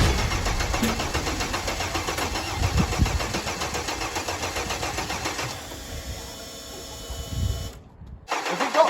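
An Opel V6 turbo car engine cranking and firing up, a rough churning start that settles into a running idle, then a brief cutout and a rev near the end, close and loud with no talking.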